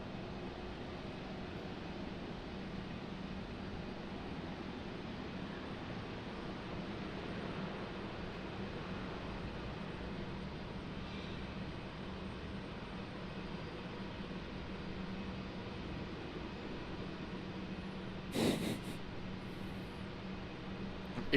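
A Republic Airways airplane at Raleigh-Durham International Airport, a distant steady broadband jet roar that hangs in the background for the whole stretch, with a brief sharp noise near the end.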